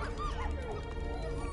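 Cosmo, the dog in the Guardians of the Galaxy video game, gives a short yipping bark with a whimpering edge, heard close and brief over a low background hum.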